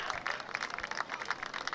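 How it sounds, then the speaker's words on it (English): Stadium crowd at a USL 2 soccer match between Denton Diablos FC and West Texas FC applauds and cheers an injured player, steady clapping and crowd noise rising and falling throughout without clear speech. "Dalen Lowe gets cheers from the crowd"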